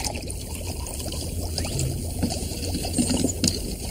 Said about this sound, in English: Pour some vinegar into the smaller container.